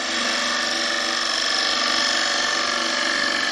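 A wood lathe spins a bowl blank while a gouge cuts along the inside wall, giving a steady, close, sustained whirring scrape with no speech.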